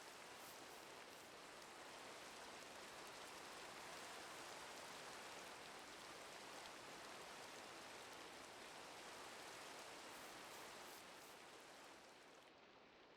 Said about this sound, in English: Seriously, it's raining again.